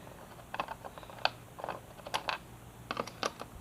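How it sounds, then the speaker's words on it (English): Two bolts are being undone on the exhaust servo motor controller of an MV Agusta F3 motorcycle, making quiet clicking and ratcheting taps in short irregular clusters, close by, with no talking. "We're just going to take out these 2 bolts here."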